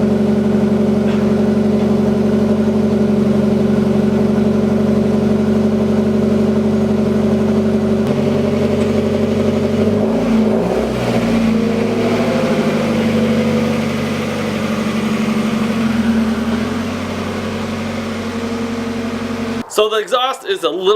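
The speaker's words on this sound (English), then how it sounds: "So the exhaust is a little loud for me." A Mazda Miata engine with a muffler delete idles with a deep, steady exhaust rumble, loud and continuous, briefly revving midway before cutting off abruptly.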